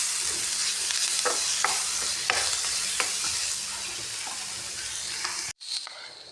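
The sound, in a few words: garlic frying and being stirred in a pan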